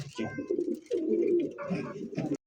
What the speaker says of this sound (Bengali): দেখতে পাচ্ছেন জার্মান বিউটি একটা কবুতর, ব্লু বারলেস জার্মান বিউটি